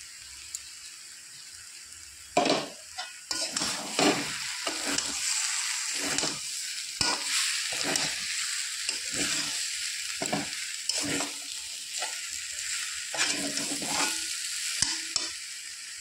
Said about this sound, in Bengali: ভালো করে মশলা কষিয়ে নিয়েছি, এবার দিয়ে দেবো জিরের গুঁড়ো আর লঙ্কার গুঁড়ো।